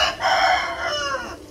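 An aseel rooster crows loudly and close by, one long drawn-out call with no talking over it.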